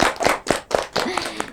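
Several sharp, evenly spaced claps ring out at an anniversary celebration of an Islamic boarding school. The claps are loud and close, a short burst from a small group.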